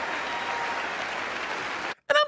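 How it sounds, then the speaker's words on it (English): Applause at the State of the Union address, a dense steady crowd clapping that fills the room, then cuts off abruptly near the end before a brief burst of other sound. "Why are you sitting back there clapping for him?"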